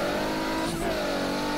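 Toyota Supra in rFactor 2 drift mode, engine revving hard and steady at high pitch with a dense harmonic whine, loud and close throughout with no talking.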